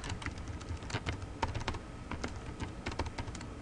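Fast, irregular typing on a computer keyboard, with close, crisp key clicks and occasional heavier thumps, continuous throughout with no talking.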